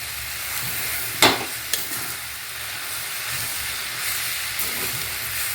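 Bitter gourd and colocasia leaf curry stirred in a pan, a continuous sizzle with a sharp spoon knock and a few softer scrapes, close up and without talk.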